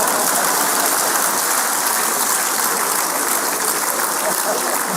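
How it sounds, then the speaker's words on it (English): A large audience at a 90th birthday celebration gives a sustained round of applause, dense and even clapping that fills all five seconds at a steady, loud level. "can we please give Daddy another resounding applause?"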